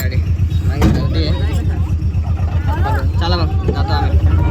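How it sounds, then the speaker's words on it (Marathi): Road vehicle travelling toward Sanawad, a low steady engine rumble with road noise under close conversation from passengers. "गाडीत बसलेलो आहे आपण आता. गाडी इथून सनावदला जाईल"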